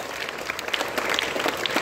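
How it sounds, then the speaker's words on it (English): Students and staff at a middle school morning assembly give a short burst of lively, close applause, with individual claps standing out in the dense patter. "Okay, so big hand of applause for Shirley Ma'am's class."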